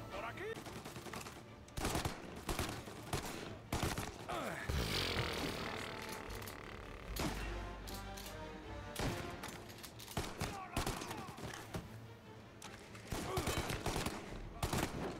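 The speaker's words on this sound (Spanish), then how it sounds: "tiroteo largo" Prolonged gunfight in Mafia: Definitive Edition, with dense bursts of gunshots and rapid volleys cracking throughout, some sharp and close, others overlapping in a chaotic barrage.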